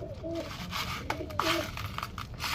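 Pigeons coo in a loft, with a male and female and a young chick kept there; several soft, rolling coos sound close by over a low, steady background hum.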